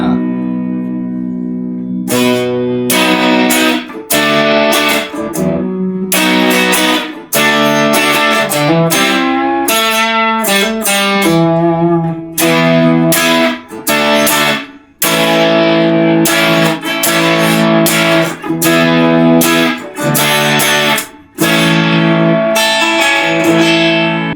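Enya Inspire electric guitar played through a crunchy distortion setting, loud sustained chords and riffs with brief gaps between phrases, ringing with echo and reverb throughout.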